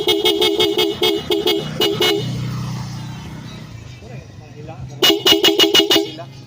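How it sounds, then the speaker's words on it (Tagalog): A newly installed loud horn on a Suzuki Raider 150 Fi motorcycle sounds in rapid repeated beeps, pauses while a low engine hum and a voice are heard, then honks in another quick burst. "Okay, try Seaworks horn."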